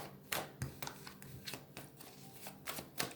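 A deck of cards is cut and handled for a tarot-style reading, producing a few soft, close riffling and slapping bursts spaced irregularly across a quiet moment.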